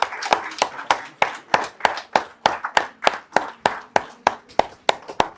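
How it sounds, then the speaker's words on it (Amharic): Hands clap in a steady, even rhythm of about three claps per second at a birthday celebration, close and distinct, each clap a sharp slap, continuing without a break. "ጭብጨባ መቋረጥ የለበትም"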